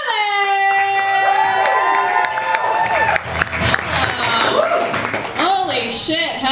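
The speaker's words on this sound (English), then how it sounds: "Keep the round of applause going for our next lovely guest, Pallavi Gunnaland" A comedy show crowd claps and cheers loudly, with whoops and shouting over steady applause, while a voice sings or calls out sustained tones at the start.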